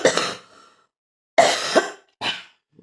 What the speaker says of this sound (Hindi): सॉरी गाइस मेरे को बहुत खांसी होती है